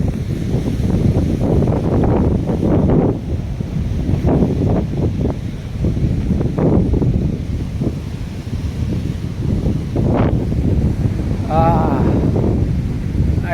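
Strong wind buffets the microphone on the Konkan seashore, with a steady roar of sea surf underneath for the whole stretch and faint voices briefly audible near the end.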